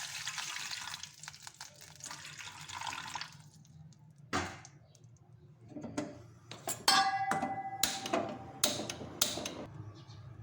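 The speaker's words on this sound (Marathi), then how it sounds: "पाणी टाकणार आहोत" Water poured into a hot pan of dhokla tempering with mustard seeds, green chilies and sugar, giving a broad sizzling rush followed by several sharp clinks of utensils, close and moderately loud.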